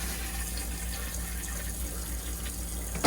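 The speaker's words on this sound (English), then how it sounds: "I'm going to turn the cold water back on." Cold water from an RV tap runs in a steady broadband rush throughout, close by, ending with a brief louder burst.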